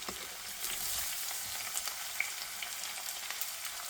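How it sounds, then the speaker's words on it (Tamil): Sliced onions and garlic sizzle steadily in hot oil in a pan, a continuous close frying hiss with occasional small pops and stirring scrapes, no voices. "So we have already sliced the onions and the garlic, so we're just adding them in as well."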